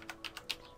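Typing on a computer keyboard, four or five quick crisp key clicks close by in under a second, faint and alone.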